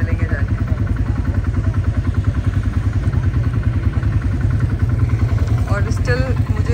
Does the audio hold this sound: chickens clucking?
no